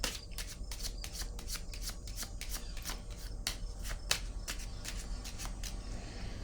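Tarot cards are handled and laid down, with a rapid, crisp series of card flicks and shuffles heard up close, quiet and without talk.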